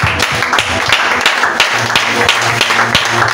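A church congregation applauding together after a call to acclaim the Lord, steady dense clapping filling the room with a low musical hum beneath, sustained and loud for a few seconds.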